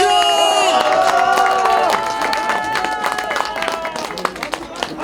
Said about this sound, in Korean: 박수 한번 크게 쳐주십시오